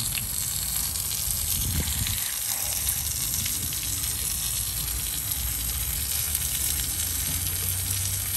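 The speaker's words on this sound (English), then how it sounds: "water does exit the bottom of the motor as it should" Steady rushing and splashing of cooling water pouring continuously from the bottom of a Honda BF75D/BF90D outboard motor, a loud, even hiss that holds for the whole stretch.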